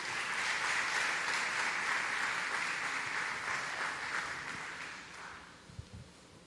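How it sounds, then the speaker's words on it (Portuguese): A church congregation applauds to welcome Deacon Renato Paiva at an evening worship service: dense, sustained clapping that holds steady for about five seconds, then thins and fades out with a few last scattered claps. "Vamos recebê-lo com a salva de palmas"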